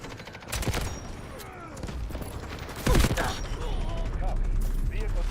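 An artillery barrage in the Delta Force shooter lands as a series of thudding blasts and crackling bursts at middling distance, with a deep rumble building toward the end and some voice chatter underneath.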